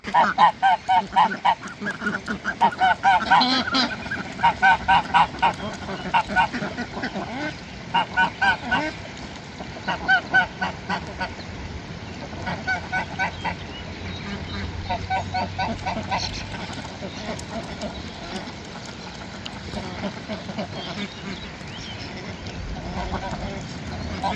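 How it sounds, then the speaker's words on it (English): A flock of ducks being herded on a homestead quacks and honks continuously, loud and near, with rhythmic bursts of calls early on easing into softer chatter, and occasional talking mixed in. "Get your ducks together."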